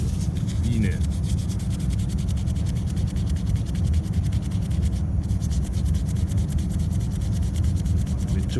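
Hand polishing of a rare export metal tappet for an old car makes a continuous close rubbing, sanding-like scrub with a steady back-and-forth texture, fairly quiet.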